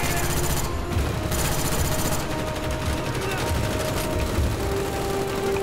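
Dense, continuous automatic gunfire in the shooter game Black Ops, rapid overlapping bursts filling the whole stretch at a loud, steady level, with a player's voice talking over the shots.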